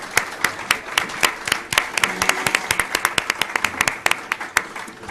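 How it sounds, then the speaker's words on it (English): Audience at a televised city election candidate debate in Rockville applauding, a steady patter of many hands clapping with sharp individual claps standing out, fairly close and sustained throughout. "So let's give everyone a round of applause."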